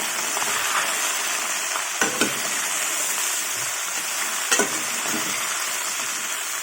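Sliced okra frying in a pan for a sesame-powder curry, a steady close sizzle that runs throughout, with a couple of soft clinks from a spatula stirring it.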